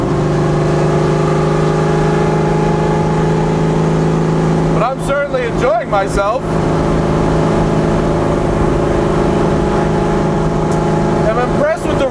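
A 1989 Mustang American Iron race car engine drones steadily at cruising speed through a Connecticut town, a loud continuous hum under a voice talking throughout.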